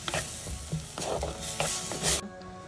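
Onions and tomatoes, seasoned with salt, hing and dried coriander powder, sizzle and get stirred in a pan. The sound is a loud, steady fry with scraping stirs, and it cuts off abruptly near the end.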